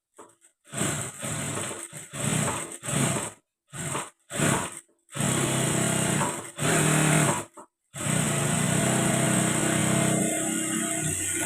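Sewing machine stitching a blouse, running in loud close bursts of rapid whirring, several short runs broken by sudden stops, then longer continuous stretches before settling into a steady run.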